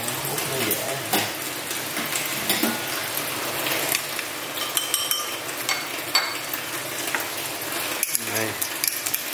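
A metal spoon stirring tteokbokki sauce with Korean chili paste in a pan, giving a steady scraping and sloshing with a few sharp clinks near the end, while a person talks over it.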